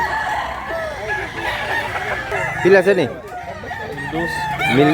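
A rooster crows loudly and nearby among clucking chickens on a farm, the crow rising out of steady hen chatter, with someone speaking briefly over the birds.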